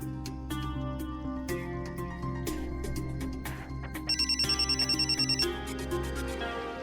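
A telephone rings repeatedly while someone keeps calling it, a bright electronic ringtone pattern sounding over dramatic background music in a romantic drama scene.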